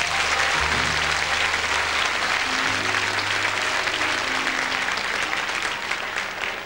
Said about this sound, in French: Vous pouvez applaudir Delphine.